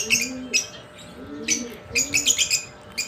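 Pet lovebirds let out bursts of sharp, high chirps close by while being moved to a new cage. The calls come in quick clusters over a low background hum.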